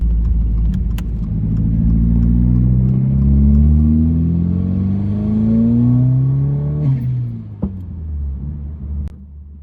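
A Subaru WRX fitted with a bigger turbo and running on E85 accelerates hard, its loud engine note climbing steadily through the gear, then dropping briefly at a shift before pulling again.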